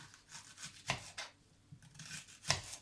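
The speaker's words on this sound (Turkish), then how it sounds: "Onları da halka şeklinde kalın kalın keseceğim." Onions sliced into thick rings with a knife on a board, a few quiet crisp cuts with soft rubbing between them, close and faint.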